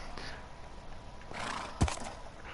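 A horse in Minecraft gives one short whinny near the end of a brief stretch of low game ambience.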